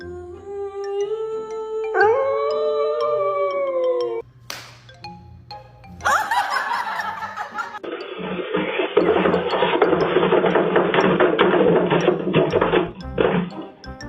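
A dog lets out long, wavering howls with rising and falling pitch. Sharper yips follow, then a stretch of loud, noisy bursts.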